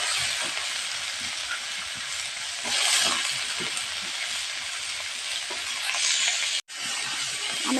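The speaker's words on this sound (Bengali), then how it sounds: "তেলটা আমার গরম হয়ে গেছে। আমি আলু আর গাজরটা ভেজে নেব।" Potatoes and carrots frying in hot oil in a wok give a steady, close, crackling sizzle that hardly changes, with a brief dropout near the end.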